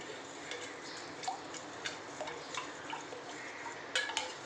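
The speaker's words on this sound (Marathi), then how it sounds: "दूध खूप घट्ट आहे तर आता ढवळून बघते एकदा" A spoon stirs thick milk mixed with kokum juice and a little water in a pot, giving faint, scattered clinks and scrapes against a quiet background.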